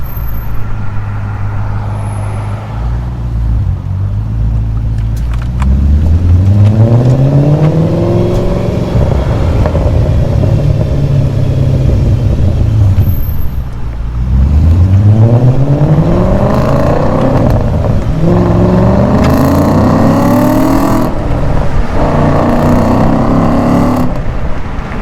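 A 2007 Audi RS4 with a Milltek catback exhaust pulls away and drives, its engine loud and close, rising through the revs in repeated climbing sweeps with gear changes and a steady deep rumble underneath.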